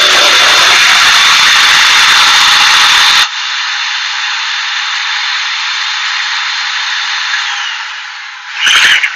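An electric balloon inflator, run from a foot pedal, blasts a loud steady hiss of air into a foil balloon, then drops to a softer continuous rush as it fills, ending with a brief louder puff.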